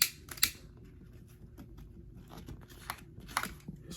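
Scissors snip through seatbelt webbing on an 85 Monte Carlo during a color change, giving a few sharp close cuts spaced through quiet handling noise.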